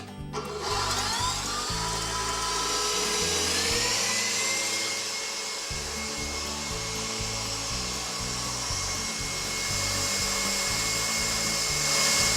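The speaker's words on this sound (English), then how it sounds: "with a whisk attachment, you're gonna whisk these for 3 to 5 minutes until they triple in volume" Stand mixer fitted with a whisk attachment whipping egg yolks until pale and fluffy, a steady loud mechanical whir with continuous rattling whisk texture running throughout, no voices.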